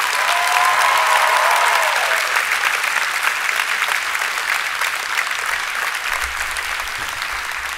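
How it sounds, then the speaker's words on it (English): A graduating high school class applauds their parents at a commencement ceremony, a large crowd's steady clapping that gradually thins toward the end, with brief cheering voices early on. "I would also ask the class of 2018 to please clap and thank your parents for bringing you here"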